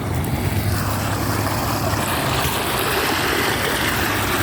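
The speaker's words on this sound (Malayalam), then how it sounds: "ആ പാറയുടെ ഇടുക്കിൽ നിന്ന് റോഡ് കവർ ചെയ്താണ് ഈ വെള്ളം വരുന്നത് കണ്ടോ" Water gushes out from a gap between rocks and across a road, a loud, constant rushing roar heard up close with no voices over it.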